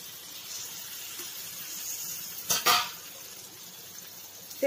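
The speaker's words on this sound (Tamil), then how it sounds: "இப்போ சேனைக்கிழங்கு சேர்த்துக்கலாம்." Pieces of elephant foot yam drop into a hot pan for kuzhambu, giving one short sizzling clatter midway against a steady background hiss.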